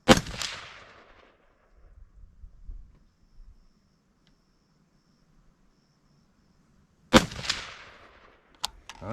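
Rifle shots fired at a target while sighting in a scope: two sharp, loud reports several seconds apart with quiet between, a faint low rumble in the gap, and a short extra crack right after the second shot.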